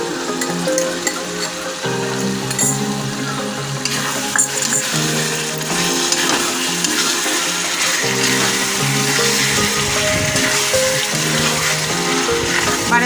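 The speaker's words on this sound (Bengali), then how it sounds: "বারে বারে আমি কষাতে থাকবো, নাড়াতে থাকবো 5 মিনিট।" Chicken curry masala with yogurt frying and being stirred in a pan, a steady loud sizzle running throughout, with tonal hum and scraping under it and no talk.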